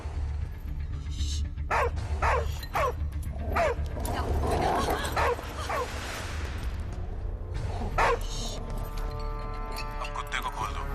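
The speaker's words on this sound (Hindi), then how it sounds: "सामने कुत्ता दिख रहा है?" A dog barks in a few short bursts with some whimpering, heard beneath ongoing dialogue and background music in an indoor film scene.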